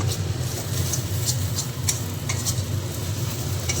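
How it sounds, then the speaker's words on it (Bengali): Boal fish frying in a pan of hot oil, a steady close sizzle with scattered sharp spatters and pops, no voices. "মাছ বেশি ভাজলে ফুটে ফুটে তেল ছিটকায় খুব ফুটে"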